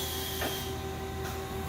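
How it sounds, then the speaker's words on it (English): Sharp SVG4323A CNC machining center during a tool change, giving a steady mechanical hum and tonal whine with a brief shifting clunk, heard without talk. "It's going to stop, do a tool change."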